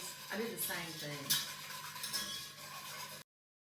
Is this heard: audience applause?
no